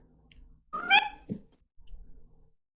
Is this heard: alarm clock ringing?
no